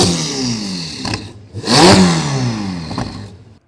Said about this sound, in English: we want to show you a couple of the exhaust notes that this thing gives off with the new Quicksilver Exhaust